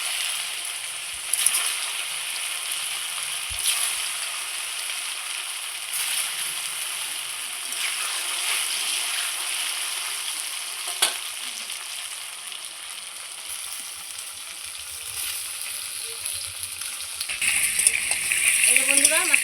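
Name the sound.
taro pieces frying in hot oil in a wok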